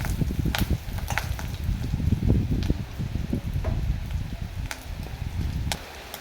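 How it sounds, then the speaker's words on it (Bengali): Fish roe frying in oil in a pan, giving an uneven crackling sizzle with sharp pops and spits scattered throughout, close and fairly loud with no voices. "মাছের ডিম সাবধানে ভাজতে হবে, একটু মাছের ডিম ভাজা ভাজা করে নিয়ে রান্না করলে টেস্টটা ভালো হয়।"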